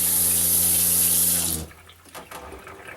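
A steady, hissing rush of water from a Delta Allentown kitchen faucet spraying into a sink runs loud for over a second, then cuts off, leaving faint drips and clatter.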